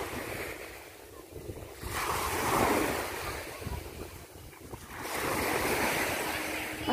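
Strong surf rolling onto Gold Coast Beach in Tuen Mun, Hong Kong, with waves surging and receding in two big swells, heavy wind buffeting the microphone throughout.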